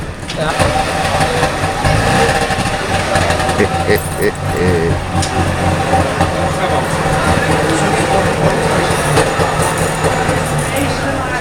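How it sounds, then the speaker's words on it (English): An East German two-stroke engine runs at a classic car and bike show in a shopping mall in Holland, giving a loud, continuous, buzzing rumble with crowd voices mixed in. "Real East German, former East German two-stroke sounds."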